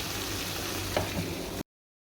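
Chopped garlic frying in mustard oil gives a brief, steady sizzle up close, with one light clink partway through before it cuts off.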